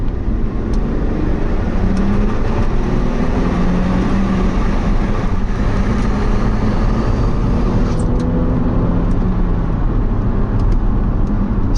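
A car accelerating in second gear from around 22 mph, a loud, close, continuous engine drone with road roar that holds steady throughout without any voices.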